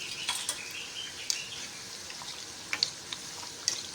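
Gota fritters frying in moderately hot oil, a soft, steady sizzle with faint crackles and a few sharp pops scattered across the few seconds, fairly quiet and with no talking.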